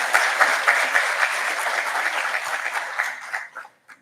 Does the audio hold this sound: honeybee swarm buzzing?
no